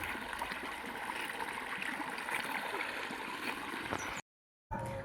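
Water streams from a pipe into a village channel to irrigate mango trees, a continuous close gurgling rush that cuts out abruptly near the end before briefly returning.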